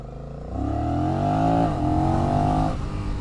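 A Honda Rebel 1100 DCT motorcycle accelerates hard, its engine note climbing through rising pitch sweeps with an automatic shift midway, loud and close with no talking.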